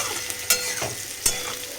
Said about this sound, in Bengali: আর এখানে ভাজাটা চড়িয়ে দিয়েছি, ভাজাটা প্রায় অর্ধেক ভাজা হয়ে গেছে।